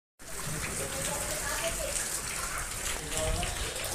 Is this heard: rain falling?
yes